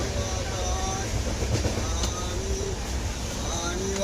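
Inside the 22861 Ispat Express passenger train on the move between Howrah and Jhargram, a steady low rumble of the carriage rolls on continuously with faint rattles and clicks.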